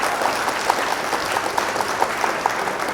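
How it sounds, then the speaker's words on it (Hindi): A crowd claps for prize winners from an army and police recruitment training camp at a rural development fair, a steady, fairly loud round of clapping with a few sharper individual claps standing out. "इनके लिए तालियां।"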